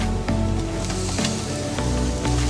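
Garlic and onion sautéing in hot oil in a pan, a loud, steady sizzle with crackling bursts and the occasional stir, close up and without talk.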